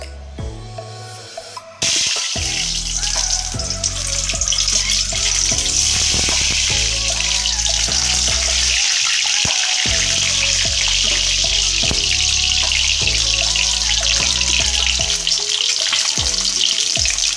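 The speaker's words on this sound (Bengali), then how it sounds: "আমি এখন একটা একটা করে ডিম দিয়ে দেবো" Eggs dropped one at a time into hot oil in a wok sizzle loudly and continuously, a bright crackling hiss after a brief quiet start, with no talking.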